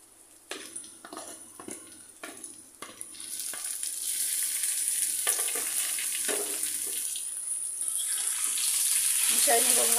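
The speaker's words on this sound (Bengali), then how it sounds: "কিছু সময় নেড়ে চেড়ে শাকগুলো মিশিয়ে নিয়েছি তেলের সাথে, পেঁয়াজ রসুনের সাথে" Greens stir-fried in hot oil with onion and garlic, a steady sizzle building in loudness, with repeated scraping stirs against the pan early on.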